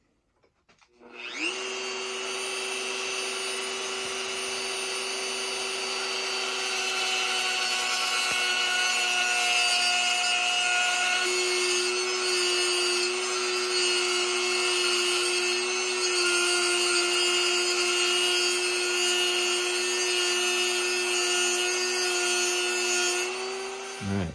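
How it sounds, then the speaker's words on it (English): A Dremel rotary tool whines steadily as it cuts a metal gear for a radio-controlled dozer drive repair, a sustained high-pitched grinding drone lasting over twenty seconds in a shop with no talking. "Just going to cut it with my Dremel here."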